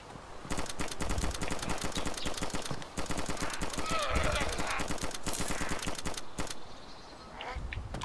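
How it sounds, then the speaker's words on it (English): Rapid, dense bursts of gunfire from a firefight in DayZ crackle nonstop for most of the stretch, then ease into quieter sporadic shots near the end, with no talk over them. "Where is that guy firing from?"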